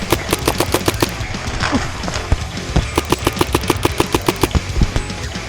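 Paintball markers fire cover fire during an outdoor skirmish game, a rapid string of sharp pops in quick bursts, loud and near, with a brief gap midway.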